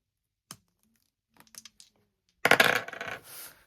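A few sharp clicks and taps of dice hitting a hard desk, then a louder clattering roll that rattles and settles, with no voices.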